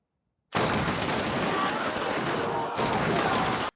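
Gunfire bursts out in a Squid Game style scene from a samurai drama series, a dense, loud, continuous volley lasting about three seconds with a momentary break near the end, and no one speaking over it.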